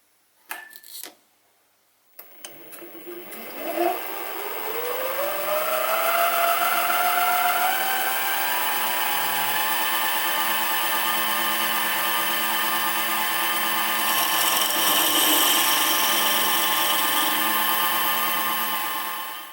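After a few clicks, a power drill with a 3.5mm bit spins up and drills into metal, running with a steady, whining whir for a long stretch.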